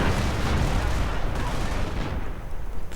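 Heavy artillery from massed American howitzers in a strategy video game, a dense continuous barrage of booms and rumbling blasts filling the whole stretch at steady high loudness, with faint talk underneath.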